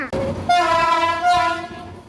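Alstom diesel locomotive 4135 hauling the steam locomotive Pacific 824 out of Bangkok station: a close, loud, sustained multi-tone horn blast over rolling rail noise, tapering off at the end.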